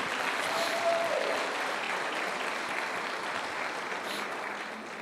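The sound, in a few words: applause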